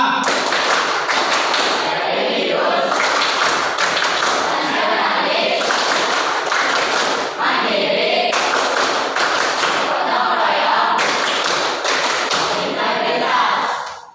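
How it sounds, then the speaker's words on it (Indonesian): A classroom of students claps out the rhythmic PPK clapping pattern together, a dense run of sharp hand claps and taps that carries on steadily for about fourteen seconds, with some voices mixed in. "Tepuk PPK."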